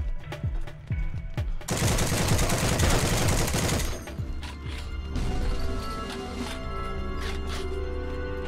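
M1919 machine gun in the game Heroes and Generals, firing in long sustained bursts of rapid, loud gunshots with crashing impacts, continuing at a steady close-range roar through the whole stretch.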